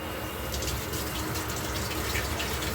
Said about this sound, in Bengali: একটু ধুয়ে নিচ্ছি টমেটোগুলোকে